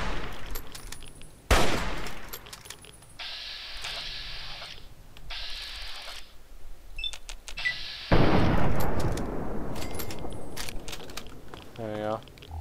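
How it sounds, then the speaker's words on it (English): Gunshots in the Fallout 3 video game, with a sharp loud report early on, then a long heavy burst of fire with clicks and mechanical clatter around it. "How did I miss those two shots?"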